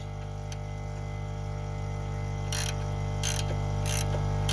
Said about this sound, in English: And you take your 24mm wrench,